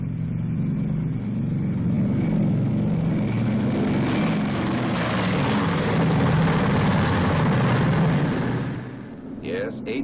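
A B-29 Super-Fortress runs its four Wright 3350 engines, a loud, continuous, heavy propeller roar with a deep rumbling low end that stays steady for several seconds before easing slightly near the end.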